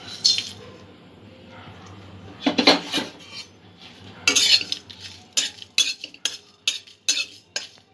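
Cumin seeds, fennel, a dried red chili and two cardamom pods dry roasting in a pan, with a spatula scraping and tapping the metal in a run of sharp, close strokes that quicken toward the end, with no oil sizzle.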